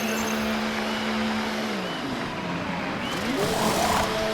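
A Formula 1 car in a racing video game slows into the pit lane, its engine whine dropping in pitch as it decelerates, followed by a mechanical hiss and rising engine noise near the end.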